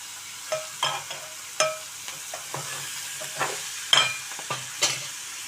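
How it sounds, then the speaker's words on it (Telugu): Drumstick pieces fry in oil for a drumstick-tomato curry, giving a soft continuous sizzle broken by repeated sharp scraping and clattering strokes as they are turned, close and with no talking. "ఆయిల్లో కాసేపు ఈ ములక్కాయల్ని మనం వేయించుకుందామండి."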